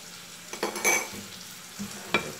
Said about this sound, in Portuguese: Vocês estão escutando o barulhinho que eu tô fritando aqui um negócio do meu filho